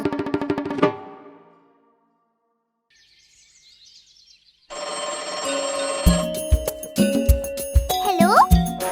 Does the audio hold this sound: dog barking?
no